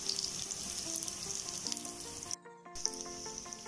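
Cubes of market tofu fry in hot oil in a pan, a steady close crackling sizzle with a brief silent gap before the frying resumes.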